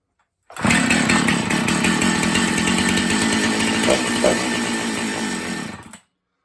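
An old Husqvarna 268 chainsaw runs for about five seconds, loud and close, with a steady buzzing two-stroke roar that begins abruptly and cuts off at the end, with no talking.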